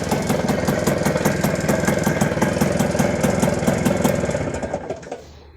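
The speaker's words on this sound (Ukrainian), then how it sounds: "Отак от Мінськ працює" A Minsk motorcycle engine runs close by with a rapid, even popping beat and a rattly exhaust note, loud and steady before it dies away near the end.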